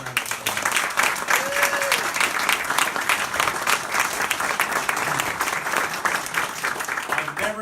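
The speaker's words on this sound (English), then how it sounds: "Give him a big round of applause." A crowd claps steadily and loudly throughout, a dense patter of many hands with a brief whistle or cheer near the start, as an audience welcomes a guest storyteller.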